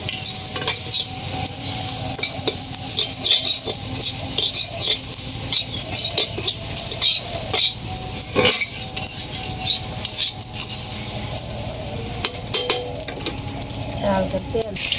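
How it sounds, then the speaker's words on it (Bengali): Dried keski fish fries and gets stirred in a pan with light oil, giving a steady, close sizzle with frequent scraping stir strokes and clinks of the utensil throughout. "এদিকে সুটকিটি বাজ্যা লইতেছে"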